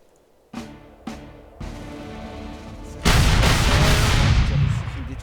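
Cannon fire in a Gettysburg battle video game: two sharp booms about half a second apart, a third heavier blast, then a loud sustained roll of artillery from about three seconds onward, with no voices over it.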